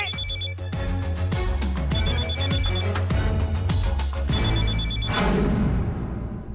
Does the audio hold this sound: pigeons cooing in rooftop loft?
no